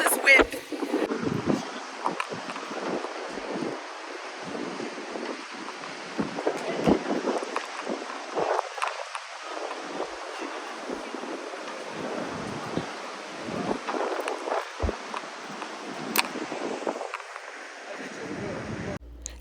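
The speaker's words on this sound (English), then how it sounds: "I don't even know if you guys can hear me because of this wind" Strong coastal wind sweeps the ramparts at Essaouira, Morocco, roaring and buffeting the microphone in uneven gusts while a person talks throughout.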